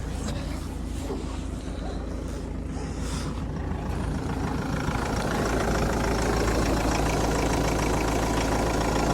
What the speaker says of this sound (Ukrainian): Двигун працює рівненько, гарно.